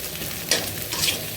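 An egg fries in oil in a pan with a soft, steady sizzle and two brief scraping stirs of a spatula.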